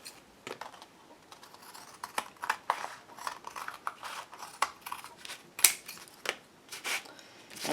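Scissors snip repeatedly through folded paper for an altered book, a quick run of crisp close-up cuts with short pauses, no talking.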